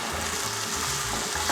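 Meat browns in a pan on the range with a brief, steady sizzle heard up close, stirring rumbling low beneath it and no talk.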